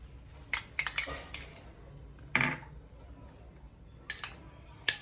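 A spoon clatters in a dish while a snack of leftover roti with onion, tomato and chilies is mixed: scattered sharp metallic clinks in short clusters, separated by near-silent pauses.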